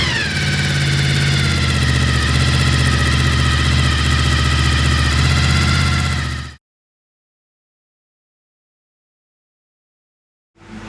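A Honda VFR800fi motorcycle engine idles unevenly, a loud close steady rumble that cuts off abruptly, leaving silence before it briefly returns at the end.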